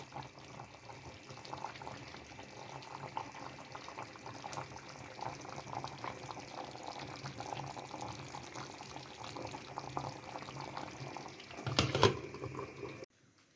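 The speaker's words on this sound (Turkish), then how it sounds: "Çok güzel kaynıyor" A pot of stuffed vegetables (dolma) bubbles and simmers steadily, a continuous watery gurgle throughout, with a brief clatter near the end before it cuts off.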